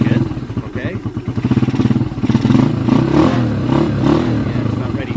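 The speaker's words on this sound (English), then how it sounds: "what you do is you pull the clutch in, accelerate a bit to unstick it" Skygo Boss 150 motorcycle with the clutch pulled in gives a loud, near, steady engine idle that swells as it revs, with mechanical clatter throughout.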